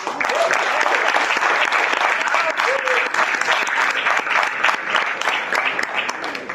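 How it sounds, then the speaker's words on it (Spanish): A church congregation gathered for the fifteenth anniversary of their church breaks into loud, sustained applause, dense clapping from many hands filling the room steadily, with a few voices faintly mixed in underneath. "Os voy a pedir un fuerte aplauso."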